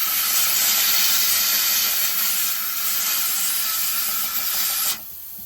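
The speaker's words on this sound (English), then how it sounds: "Then an air blast." Compressed-air blast inside a spark plug cleaning machine for aircraft spark plugs, a loud continuous hiss lasting about five seconds before cutting off abruptly.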